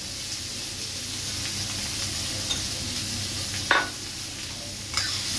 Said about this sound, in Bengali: আগে এটা ভালোভাবে ভাজা হবে। পেঁয়াজ দেখো ভাজা হয়ে গেছে।